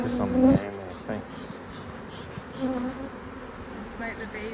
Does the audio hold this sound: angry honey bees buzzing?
yes